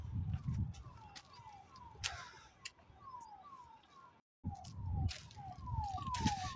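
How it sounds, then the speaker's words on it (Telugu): A distant ambulance siren wails in repeated falling tones across the open hillside of a fort, faint under wind and scattered nearby clatter, with a brief gap before it carries on. "ఏదో అంబులెన్స్ సౌండ్ వస్తూనే ఉంది,"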